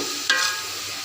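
Tomatoes frying in a pot for a dhaba-style beef biryani, a short stirring scrape over a steady close sizzle.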